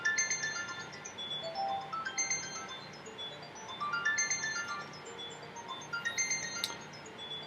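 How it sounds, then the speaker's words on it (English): A mobile phone ringtone plays a continuous melodic tune of repeating rising and falling tones, fairly faint and steady throughout. "I got my phone ringing"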